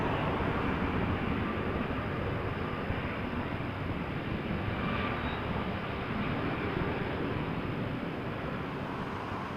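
Air Canada Airbus A321 at Toronto Pearson airport producing a steady, broadband engine roar that holds at constant loudness throughout, a distant jet rumble with no voices.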